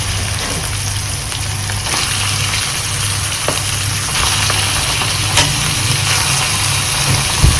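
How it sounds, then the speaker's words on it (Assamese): Mutton intestine chusta frying with onions in a pan: a loud, steady, close sizzle that runs without a break, with faint stirring clicks now and then. "ফ্ৰাই কৰিব লাগিব বহুত টাইম ভাজিব লাগিব বহুত টাইম"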